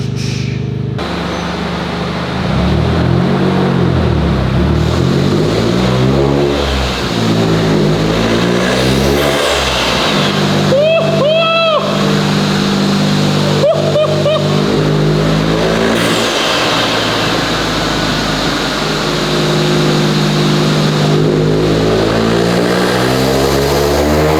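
Toyota GR Corolla fitted with an MST Performance intake revs hard and loud, with rising and falling engine sweeps and sharper induction noise, up close and steady for the whole stretch.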